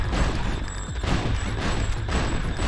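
Heavy gunfire bursts from the magma cannon in Ratchet: Deadlocked, a dense, continuous barrage of booming shots and rumbling impacts over game noise, loud and close throughout.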